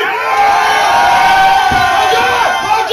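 A loud crowd at a lucha wrestling match cheers and shouts together, a dense roar of voices with whoops rising over it, close and continuous.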